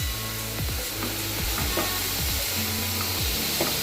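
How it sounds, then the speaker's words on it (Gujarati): Milk being poured into a hot pan of roasted semolina for rava ladoo, giving a loud, steady sizzle with scraping stir sounds throughout, close up. "હવે આ જે દૂધ લીધું છે એ આપણે અંદર નાખી દઈશું."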